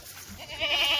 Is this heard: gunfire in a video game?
no